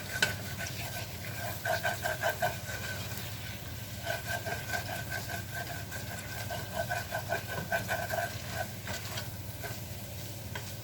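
Butter being stirred from the bottom of a pot while making chicken pot pie filling: faint scraping strokes and a soft sizzle repeat in an uneven rhythm, with a low steady hum underneath.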